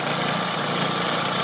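A KitchenAid stand mixer runs at steady speed while cooking, a loud continuous whirring motor hum with no breaks and no talking.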